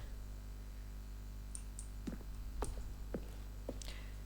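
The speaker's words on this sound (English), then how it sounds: "A selection of sounds used throughout the game when buttons are pressed. Each sound is a mix of a keyboard stroke and the synthesizer tone." Button-press sounds from the video game The Stanley Parable, each mixing a keyboard keystroke with a synthesizer tone, heard as several short separate clicks over a steady low hum, fairly quiet with no talking.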